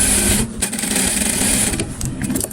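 A sewing machine stitches a fashionable summer dress in a loud, close, rapid mechanical whir that runs almost without a break for a couple of seconds, with a brief dip in the middle and no speech.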